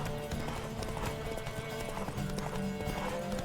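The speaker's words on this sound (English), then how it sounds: "Pretty basic horse race." A horse gallops in a race in the video game The Witcher 3, quick rhythmic hoofbeats clopping steadily over a dense, loud bed of game ambience and music, with no talking.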